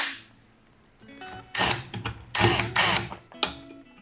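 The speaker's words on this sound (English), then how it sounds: "And then we'll put our screws back in." Screws being driven back into the plastic cover of an Echo edger, with several bursts of ratcheting, clicking mechanical turns close by in a quiet room.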